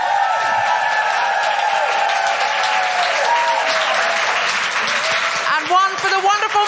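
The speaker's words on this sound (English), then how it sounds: "Can I have a huge round of applause for the incredible Sindhu Vee?" A live audience applauding for comedian Sindhu Vee, a loud, sustained round of clapping with a little cheering, and a voice speaking over it near the end.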